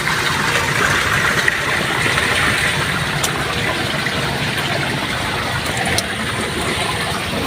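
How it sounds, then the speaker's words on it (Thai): A rural Thai stream flows past a grassy bank, giving a steady, loud, close rush of water with no breaks. "มาดูน้ำไหลนะ"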